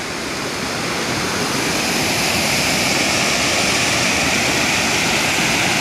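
A swollen river rushes past a village after heavy rain, the floodwater making a loud, steady roar that stays even and continuous throughout, with no voices.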